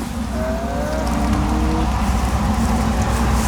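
Rain falls steadily outdoors at a house, a constant loud wash of hiss and patter with no breaks, and a faint low rumble underneath.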